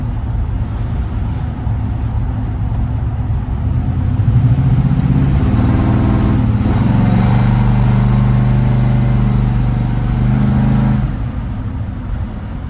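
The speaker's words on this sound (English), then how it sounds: "The truck handles the road good." An old Chevrolet C10 pickup truck engine runs steadily with a low rumble while driving, swelling louder midway as it accelerates, then easing back toward the end.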